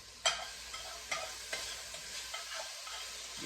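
Rye berry risotto with garlic and onion stirred in a pan, a soft steady sizzle broken by several rhythmic spoon scrapes, close and fairly quiet, with no talking.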